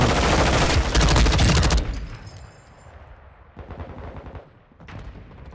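Loud bursts of automatic gunfire in Call of Duty Modern Warfare II, dense and rapid for the first two seconds, then fading to quieter scattered shots and distant firing.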